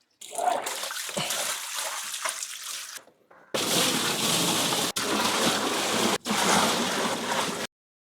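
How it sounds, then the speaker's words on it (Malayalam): Buckets of water are poured into a fish tank at a guppy farm, giving several loud, sustained gushes and splashes separated by brief pauses and a short quiet gap. "നമ്മൾ ബക്കറ്റിൽ വെള്ളം നിറച്ചിട്ട് ഒഴിക്കാൻ തീരുമാനിച്ചു"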